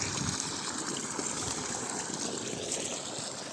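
Water from a two-inch delivery pipe on a solar water pump system gushes under pressure in a steady, close, broadband rush that carries on unbroken from start to end.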